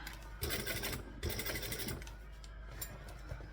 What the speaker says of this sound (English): We're going to top stitch around the edge